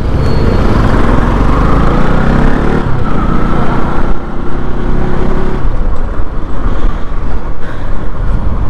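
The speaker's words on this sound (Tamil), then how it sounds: "சரியான டிராஃபிக்ங்க." Dense, loud road traffic near Coimbatore with a steady engine roar, vehicles rumbling past close by, the heaviest passing fading partway through into a continuing mix of nearby motors.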